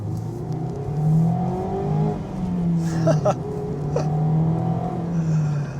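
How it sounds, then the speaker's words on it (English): Mazda MX-5 2021 sports car engine revving up through second gear, a brief dip at the shift into third, then pulling again, loud and close with a rising, rasping tone. "Just a simple change from second to third is deeply satisfying."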